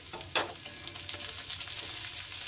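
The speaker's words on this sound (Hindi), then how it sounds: "थोड़ी सी और फ्राई होने देंगे।" Chopped onion and green chillies fry in a pan with a bright, steady sizzle, close and continuous, and a brief stir or clatter near the start.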